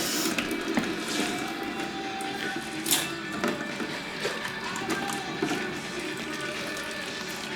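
Oil runs and splashes out of the removed sump of a Mazda RX-8 rotary engine during teardown, a continuous close trickling pour with faint clinks and no talk.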